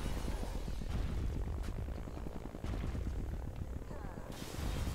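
Helicopter in the Disney Infinity video game, a continuous loud rotor chop and engine roar filling the whole stretch, with thumping bursts mixed in and no clear break.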